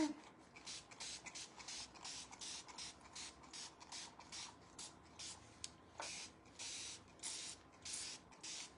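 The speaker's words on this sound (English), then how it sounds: "And I just spray it with water." A spray bottle spritzing water repeatedly in quick, even pumps, a steady run of short hissing bursts up close.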